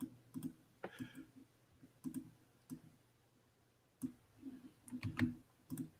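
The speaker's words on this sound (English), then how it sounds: "are you clicking things?" Quiet, scattered clicks from a computer mouse or keyboard come in small clusters over a low background hum, with no voices.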